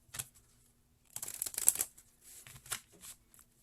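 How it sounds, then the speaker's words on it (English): Tarot cards being shuffled in several bursts of papery riffling and slapping, separated by brief pauses, close and clear with no talk. "One more shuffle, they say."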